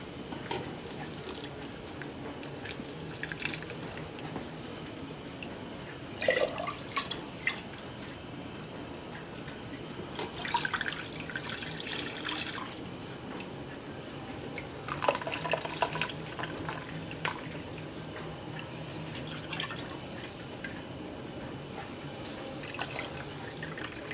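Turkey broth is poured through a double strainer, giving a soft, steady trickle with intermittent splashes and drips, fairly quiet and without talk.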